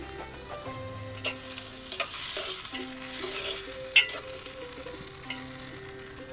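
Oil crackling in a pan during home cooking of a watermelon-seed chutney, with stirring scrapes and occasional utensil clinks punctuating a steady close-up sizzle and no one talking.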